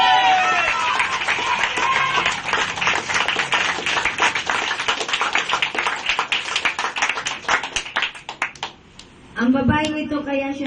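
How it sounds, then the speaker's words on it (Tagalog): A church congregation claps in a fast, dense rhythm that keeps going for several seconds before thinning out. Loud voices and singing ring over the clapping, and a voice speaks near the end. "Sa palakpak pa lang, magaling na kayo."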